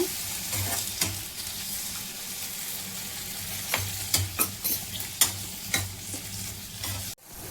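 Ginger garlic paste frying in a pan with onion for a chicken liver tawa fry, a steady close sizzle with repeated scraping clicks of a spatula stirring, ending in a sharp knock.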